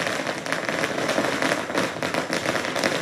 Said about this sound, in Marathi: फटाके फोडत या रॅलीचं स्वागत केलं जातंय